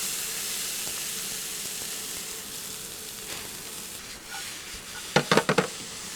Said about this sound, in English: So now spices are ready, we're gonna fry off the onion